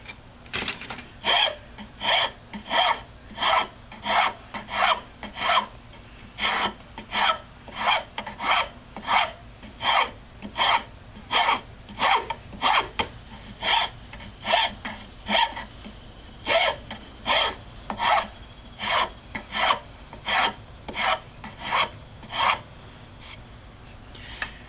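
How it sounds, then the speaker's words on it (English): A fine rasp rasps steadily across wood being shaped into a strop, in a long run of quick, even strokes, close and loud, pausing briefly around the middle before carrying on. "now I'm going to switch over to the finer rasp and just kind of smooth out a lot of this"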